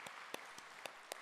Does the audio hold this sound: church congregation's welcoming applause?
yes